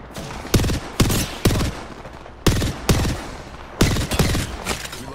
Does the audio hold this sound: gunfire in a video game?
yes